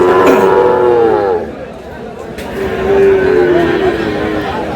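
Sahiwal bull calves low at a busy cattle market, two drawn-out moos a moment apart, close by, with a faint crowd murmur in the background.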